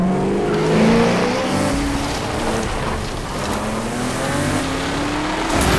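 Off-road vehicle in The Crew racing game, its engine droning steadily with rising and falling pitch as it accelerates and shifts, loud and continuous with road rumble and no talk.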